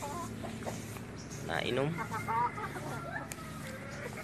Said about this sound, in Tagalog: Ito po ang shamo natin na cross.